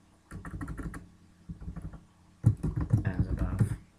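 Keys clatter on a computer keyboard in two quick bursts of typing, close and fairly quiet, with a short pause between them.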